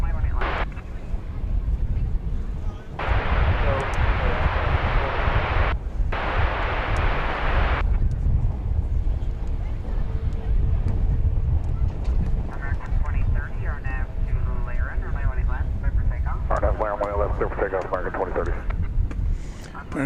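An American Boeing 737-800 jet airliner on flight 2707 to Austin at DFW Airport makes a sustained roar with bursts of rushing noise, under continuous talk.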